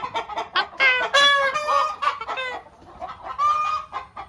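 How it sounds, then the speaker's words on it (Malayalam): Chickens cluck and squawk on a poultry farm in a quick, busy chorus at close range, with several birds calling over one another in short bursts. "പ്രവീണിൻ്റെ കോഴി ഫാമിൽ"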